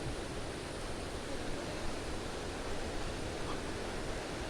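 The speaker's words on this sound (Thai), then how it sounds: "น้ำค่อนข้างที่จะไหลแรงนะครับวันนี้" Fast-flowing water of the Mae Chaem river in Op Luang National Park, a steady broadband rushing wash, moderately faint and continuous with no voices.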